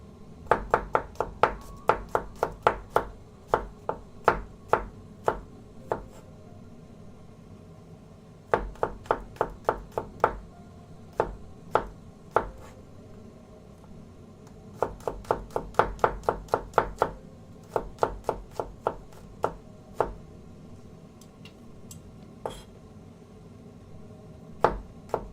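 Rapid bursts of knife chops on a cutting board while slicing garlic, sharp close taps in quick runs separated by short pauses, repeated several times with no talk.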